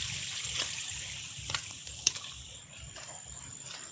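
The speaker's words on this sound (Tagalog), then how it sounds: "Yan, lakas ng baha dito sa amin." Strong floodwater rushing past a home and flooded banana grove in the Philippines, a steady broadband wash of flowing water with a few brief splashes, continuous and fairly close, with no voices.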